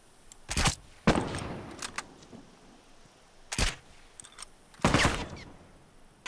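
Rifle shots in The Last of Us, several sharp loud cracks spaced irregularly with a brief rattle of follow-up fire, set against quiet game ambience.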